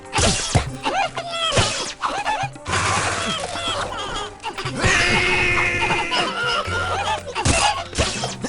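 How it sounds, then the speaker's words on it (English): Loud, chaotic noise from the video game Nox: a berserker charge with an enraged shout, mixed with laughing, crashing and shattering effects in continuous dense bursts, without pauses. "Do like enraged scream for the berserker charge."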